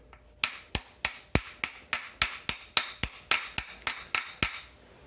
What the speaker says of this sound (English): And take your hammer